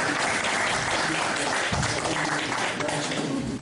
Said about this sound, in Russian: срывает бурные аплодисменты